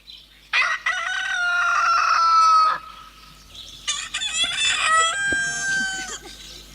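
A voice imitates a rooster crowing, two long strained cock-a-doodle-doo calls in a row, loud and close, with a short pause between them.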